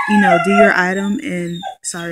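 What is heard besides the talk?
dog whining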